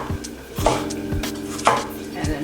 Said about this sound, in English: I'm going to finally dice some red onion